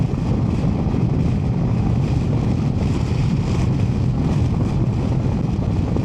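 Steady, loud wind rushing against a motorcycle helmet while riding an Indian Sport Chief RT with no windshield, a broadband roar with constant level throughout.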